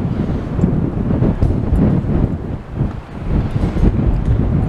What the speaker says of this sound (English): I'm just going to feel that whistly wind just coming down